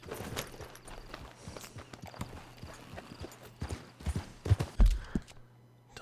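Horse hooves thud in Red Dead Redemption 2, a loose run of hoof and footstep hits over quiet background, growing heavier near the end, with no voices.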